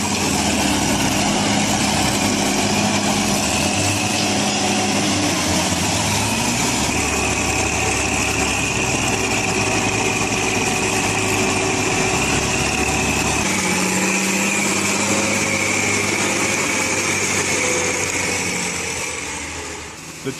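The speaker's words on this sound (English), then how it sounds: "The truck loaded with wood was so heavy that the tractor had to make another plan to pull the truck out of this muddy road." A tractor engine labors continuously on a muddy road in Rondônia while pulling a heavily loaded log truck, a loud, steady mechanical drone that shifts in pitch partway through and fades slightly at the end.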